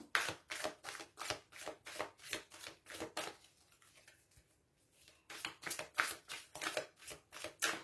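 Oracle cards shuffled for a reading, a steady run of soft, rhythmic riffling strokes, close and fairly quiet, pausing briefly midway before resuming.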